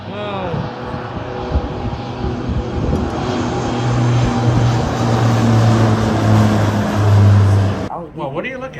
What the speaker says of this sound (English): there's a plane taking off right there